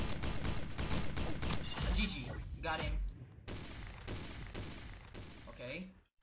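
Dual pistols firing in PixelGun 3D, a dense fast rattle of gunshots nearly continuous across the span with a brief pause, loud and close amid game effects.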